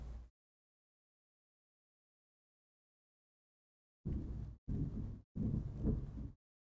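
Thunder from lightning in an anime episode comes as a short rumble, a pause of silence, then three heavy low booming cracks in quick succession, loud and close.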